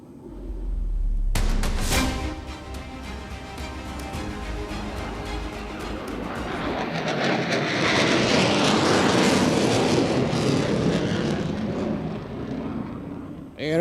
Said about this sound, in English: It's not just the sound of the engine, but the lion's roar.